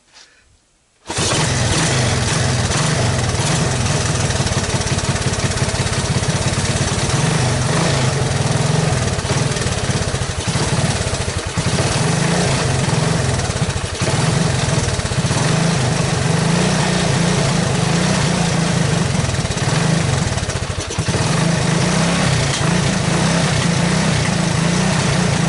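A 1985 Honda ATC200S ATV engine runs continuously at a high, steady fast idle with clogged jets, loud and close, starting abruptly after a second of silence and droning on without settling down.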